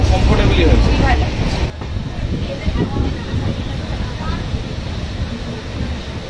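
The Tamralipta Express 12857, running from Howrah to Digha, rumbles steadily as it slows near Digha station. The low, continuous rolling noise is heard from close by, with a brief dip in the sound partway through.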